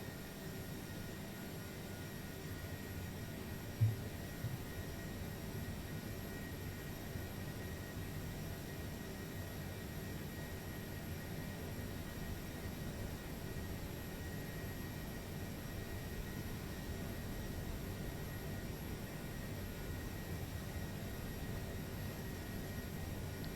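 Airbus A330 jet engines run at full takeoff throttle in the video game Flight Simulator 2020. The roar is steady and even with a faint hum and no talking, holding at an unchanging level throughout.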